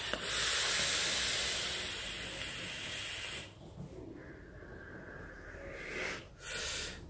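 A long steady airy hiss of a hard draw through an Augvape Templar RDA atomizer on a mod, followed by quieter breathy exhales and a brief second puff.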